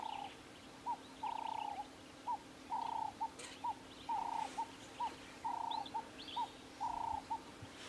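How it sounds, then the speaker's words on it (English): Cape turtle doves call in a repeated outdoor rhythm, each phrase a short note followed by a longer coo, about six phrases spaced evenly and moderately close, with faint higher bird chirps and a steady low hum behind them. "I'm sure you can hear some of the Cape turtle doves calling behind me."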